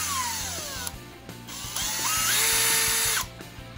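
An iBELL BM18-60 20V cordless impact drill runs close by, its motor whirring and rising and falling in pitch as the variable-speed trigger is squeezed and eased, with brief stops between bursts.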